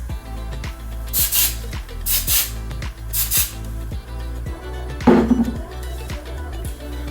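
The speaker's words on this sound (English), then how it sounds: "And then I'll just do a quick spritz throughout the curls." Hairspray is spritzed over freshly curled hair in several short hissing bursts, close and fairly loud, above a steady low background hum.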